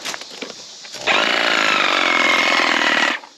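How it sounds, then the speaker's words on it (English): A Sawzall reciprocating saw cuts through tree roots, a loud, close, buzzing mechanical rattle that starts abruptly after a quiet second, holds steady for about two seconds, then stops. "Sawzall."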